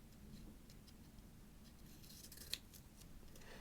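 Scissors cutting paper in a quiet ASMR setting: one brief, crisp snip stands out midway against a soft, steady background hush.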